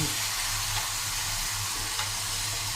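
Pork pieces sizzle on a charcoal grill, a steady bright crackling hiss with faint pops, fairly close and continuous, with no talking.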